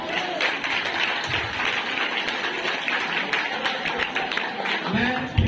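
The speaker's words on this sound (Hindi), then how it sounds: "तो एक बार तालियां बजा दो।" Applause from an audience at a school GK quiz competition, a steady clatter of many hands clapping close by with some voices murmuring underneath.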